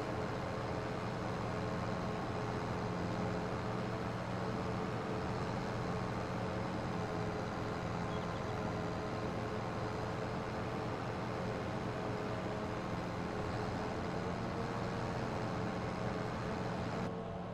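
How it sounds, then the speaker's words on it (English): Tractor engine pulling three mowers through wet grass in a farming simulator, a steady dense drone holding at an even level the whole time with no talk. "this tractor is perfectly capable of running all three mowers"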